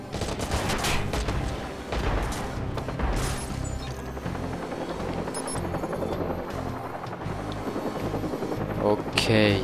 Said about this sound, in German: jetzt muss ich den Heli runterholen